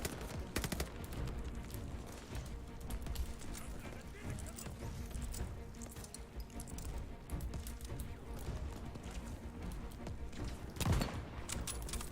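Gunfire in a Call of Duty battle rattles in quick bursts and scattered shots, fairly faint and distant, with one heavier blast near the end and voices talking over it.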